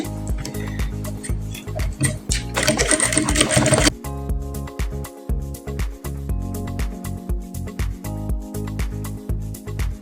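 A sewing machine stitches the vertical lines of a corset bust cage in a steady mechanical whir, broken by short pauses between runs, with a brief louder burst of noise partway through.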